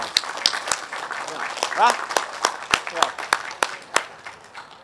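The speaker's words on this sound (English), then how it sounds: "How about a round of applause?" Outdoor crowd at a Pride Month flag raising ceremony applauding, scattered hand claps of moderate loudness, with a voice calling out over the clapping.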